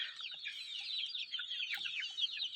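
Chickens on a farm cluck and chatter near a water drinker, a busy overlapping stream of soft calls heard at moderate distance without pause.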